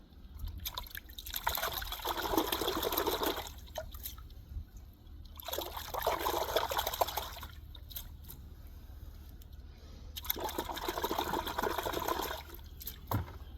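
A garden hose sprays water over freshly caught blue crabs, three bursts of splashing, trickling rinse that come and go with quieter dribbling pauses between them.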